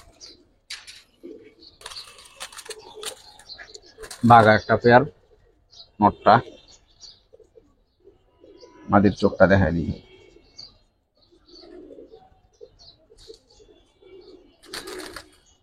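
Giribaz pigeons coo in short, throaty bursts at close range, with two louder calls standing out, while someone speaks on and off between them.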